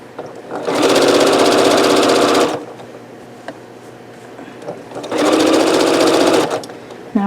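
Sewing machine stitching candy cane print fabric onto a minky snowman quilt block, two loud sustained bursts of rapid mechanical whirring separated by a quieter pause with small clicks.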